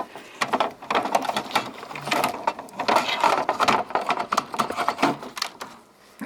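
A Canon Maxify MB2020/MB2320 inkjet printer shuttles its cartridge carriage to the next slot, giving a quick burst of rapid mechanical clicks and ratcheting whirs close by, with no talk.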